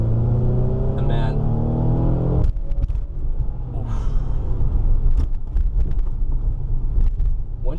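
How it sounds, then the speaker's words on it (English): Mercedes C63 with a V8 bi-turbo engine pulling hard, a loud steady engine drone that breaks into a rougher, surging roar as throttle comes on, close and continuous. "the new one is awesome, just because it's got a V8 bi-turbo in it"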